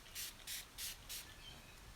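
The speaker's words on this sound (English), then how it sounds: "So then you're gonna spritz again." Toner spritzed onto a face during a professional organic facial peel, four short, crisp mist bursts in an even rhythm, close and clear against a quiet background.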